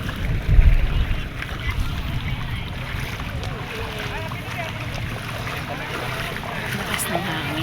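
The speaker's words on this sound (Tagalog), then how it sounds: "Lakas ng hangin" Strong wind on an island-hopping trip at Guyam Island, Siargao, buffets the microphone with steady low rumble and gusts, over a broad wash of outdoor noise, with a louder burst near the start.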